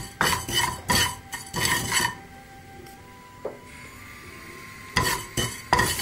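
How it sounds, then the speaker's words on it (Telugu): Sesame seeds dry roasted in a small pan for curry leaf podi: close bursts of rattling and scraping stirring against the metal, a quieter stretch in the middle, then more stirring clatter at the end. "దానిలో ఈ నువ్వుల్ని వేసుకుని డ్రై రోస్ట్ చేసేసుకుందాం."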